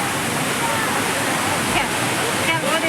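Waterfall at Amarkantak, a loud, continuous broadband roar of falling water that stays steady throughout, with a voice briefly present beneath the rush.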